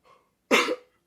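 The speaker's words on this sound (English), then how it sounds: "this weather is still messing with my throat. I've been sneezing a lot." A man sneezes once during a wrestling review talk, a single loud, close, breathy burst after a faint intake of breath, then silence.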